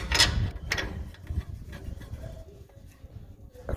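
A clamp being ratcheted down onto a fabricated front-suspension A-arm part, giving a few close, sharp mechanical clicks and scraping turns spread across a few seconds of workshop noise.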